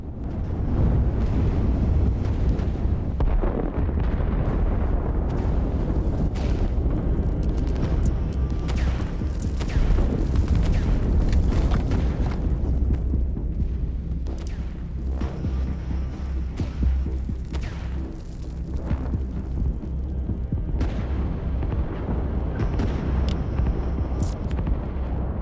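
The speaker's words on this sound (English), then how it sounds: "Here comes another one of those missiles" Missiles explode in the Line Wars strategy game, a long stretch of rumbling blasts and crackling bursts over a deep continuous roar, loud and layered.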